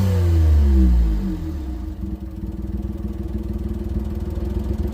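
Honda Beat engine revving up loudly at first, then dropping back to a steady, throbbing idle, heard close and alone.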